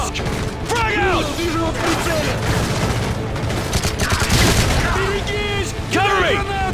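A frag grenade goes off in Call of Duty Modern Warfare 3 amid a firefight around a trading kiosk, a heavy boom within continuous gunfire and battle noise, with soldiers shouting throughout.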